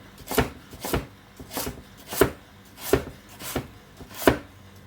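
A knife thinly slicing carrots on the diagonal against a cutting board, seven crisp, evenly spaced chops in a steady rhythm, close and clear with no talk.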